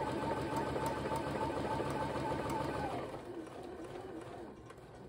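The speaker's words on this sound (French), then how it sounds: "je couds le plus près possible du bord" A sewing machine stitches a cargo pocket onto a skirt close to the edge, a steady near mechanical whir that eases to a lower, quieter run partway through, with no talking.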